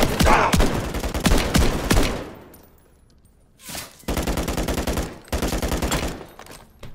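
Automatic weapon fire in the video game Modern Warfare 3: a loud opening stretch of rapid shots, a brief lull, then several sharp, evenly paced machine-gun bursts close by.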